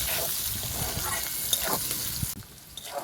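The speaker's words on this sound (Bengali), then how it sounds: "পেঁয়াজটাকে ভালো করে নেড়ে চেড়ে ভেজে নেব।" Chopped onions sizzle in oil left over from frying fish while being stirred. A close, steady hiss runs throughout, broken by scraping strokes, and a brief pause comes near the end. No one speaks.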